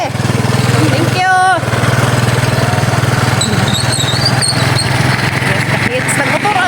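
Motorcycle engine droning steadily throughout a ride carrying a passenger, loud and close, with people chatting over it and a brief dip in the engine note near the start.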